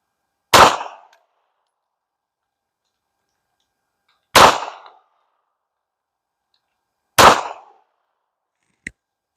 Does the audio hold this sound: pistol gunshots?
yes